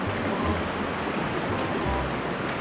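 Broadband rushing water of an unnamed waterfall in Biliran, a steady dense roar heard up close, continuous and unbroken for the whole stretch with no voices over it.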